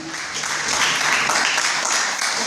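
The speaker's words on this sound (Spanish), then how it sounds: "Denle un fuerte aplauso al Señor." A church congregation applauds during a sermon with a thick, continuous wash of clapping from many people. It is loud and fairly even throughout the short stretch.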